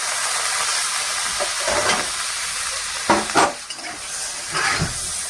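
Potatoes fry in hot oil with a loud, continuous sizzle and hiss, broken by a few bursts of scraping and shifting as they settle and are moved in the pan.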